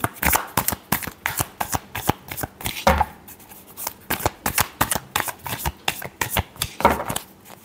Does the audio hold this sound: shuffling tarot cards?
yes